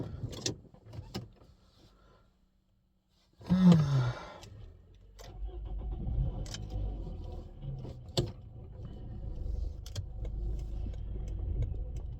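A car on the road is heard from inside the cabin. After a few quiet seconds a steady low engine and road rumble takes over, with occasional clicks and ticks.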